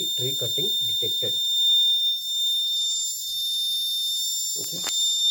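A tree-cutting sensor alarm on a forest security device sounds a steady high-pitched electronic tone throughout, while a person talks near the start and again near the end.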